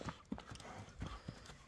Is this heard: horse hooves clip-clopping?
yes